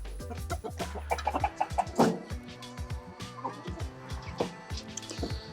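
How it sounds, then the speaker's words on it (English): Chickens cluck in short, scattered bursts, close by, with turkeys and a busy homestead mix of bird calls and rustling around them. "Some chickies, some turkeys."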